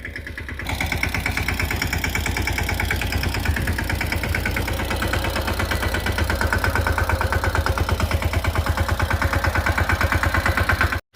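A tractor engine runs steadily with a loud, even diesel chugging rhythm that holds for the whole stretch, close by and alone.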